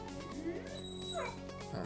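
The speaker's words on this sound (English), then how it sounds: "my dog is yawning" A dog yawns with a squeaky, whining whimper that rises and falls in several short yips, heard close by indoors with no talk over it.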